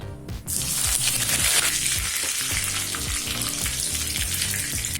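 Loud crackling sizzle of curry leaves hitting hot oil for Tamil tomato rice, bursting into sharp spattering pops that continue vigorously throughout, close up with no voices.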